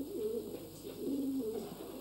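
Racing pigeons kept for breeding stock give soft, low cooing calls in a few short phrases, moderately close and fairly quiet over a faint background hum.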